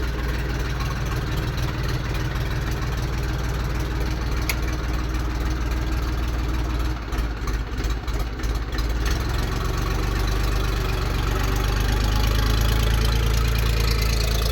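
A Belarus 311 two-cylinder tractor engine idles close by, with a steady low chugging rumble and a slight dip and recovery partway through.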